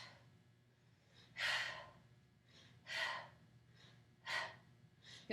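Sharp exhales during traditional push-ups with hands wide beside the chest, three forceful breaths spaced about 1.5 seconds apart in a steady workout rhythm, close and moderately loud over a low background hum.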